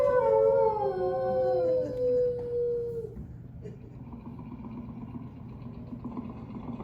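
A dog howls in the Carousel of Progress show at Walt Disney World's Magic Kingdom: one long, wavering howl slides downward for about three seconds, then gives way to a low, steady background hum.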